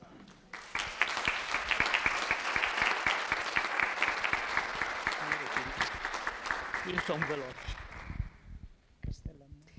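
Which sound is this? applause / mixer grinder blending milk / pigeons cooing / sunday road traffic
applause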